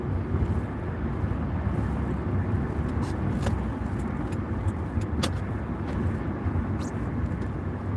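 Continuous road traffic rumbling past with broad engine and tire noise and some wind buffeting, a few sharper passing whooshes, steady and moderately close with no talk.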